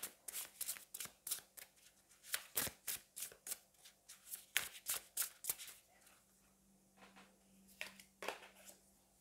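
A deck of oracle cards being shuffled close up, with repeated quick riffling and sliding bursts in a steady rhythm, pausing briefly near the end before a few more shuffles.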